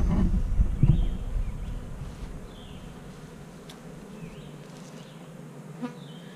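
Honey bees buzz steadily around an open hive, close and continuous, with a few louder passes near the microphone and some low handling rumble at first.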